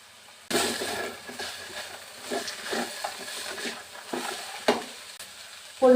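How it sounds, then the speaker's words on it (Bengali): Cabbage and mixed vegetables sizzle in a pan for fried rice, with a steady hiss and scraping stirs that come in several bursts, close and moderately loud, and no talking. "বেশ কিছু সময় আমি ভেজে নিছি, সবজিগুলো হাফ ডান হয়ে গেছে।"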